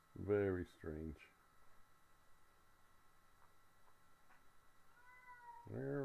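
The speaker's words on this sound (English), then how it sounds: "That's my cat." A pet cat named Sparky meows loudly twice at the start and again at the end, close to the microphone, with quiet room hum between the calls.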